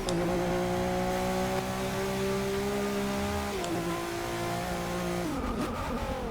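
Race car engine in Forza Motorsport 6, a front-wheel-drive LM car, holding a loud, steady high rev with a sharp drop at a gear shift and a sudden falling whine near the end.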